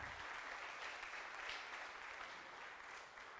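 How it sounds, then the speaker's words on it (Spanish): Congregation clapping at a church service, a steady wash of applause filling the room for the full stretch, fairly faint and even, with no talk over it. "Dele un aplauso al Señor."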